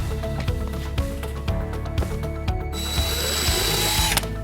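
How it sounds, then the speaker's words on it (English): A power drill drilling a pilot hole through a shutter whirs continuously with rhythmic ratcheting clicks and a brief rising whine near the end, close up and loud. "Drill a pilot hole through the shutter, leaving a small mark on the wall."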